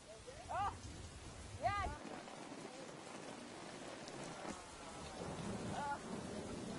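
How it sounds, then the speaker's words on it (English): Torrential rain falls as a steady, dense hiss over a low rumble, broken by a few brief chirping, voice-like calls. "it rains in torrents for a month"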